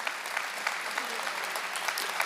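A mushaira audience in Kolkata applauds steadily, dense hand clapping filling the whole stretch at an even level with scattered sharper claps.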